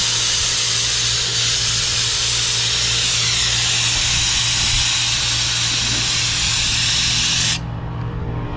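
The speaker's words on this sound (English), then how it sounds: "So I'm gonna take compressed air and I'm gonna run the air into the gaps" Compressed air hisses steadily into the seams of a Cobra Daytona replica's body panels, a loud, continuous spray-like rush that runs nearly nine seconds before cutting off abruptly near the end.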